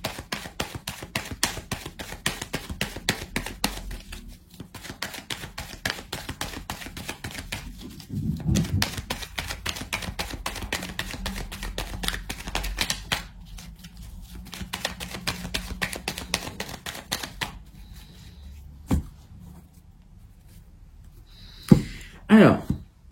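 A deck of tarot cards is shuffled and cut in rapid riffling, flicking bursts with brief pauses between rounds, close up, followed by a few sharper taps near the end.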